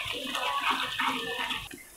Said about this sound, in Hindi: 2 घूंट इसमें मैंने पानी डाल दिया।